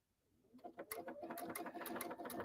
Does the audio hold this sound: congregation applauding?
no